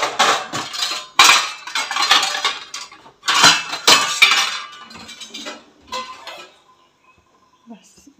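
A lid clatters onto a pot of tomatoes simmering in water, followed by a series of close metallic clinks and knocks in short bursts that then fade to near silence.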